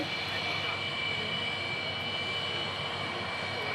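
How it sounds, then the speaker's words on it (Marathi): A loud, continuous jet engine roar from a Tejas Mk1 fighter aircraft holds steady throughout, a broad rushing drone with a thin high whine on top. "हे तेजस एम के वन हे लढाव विमान आहे"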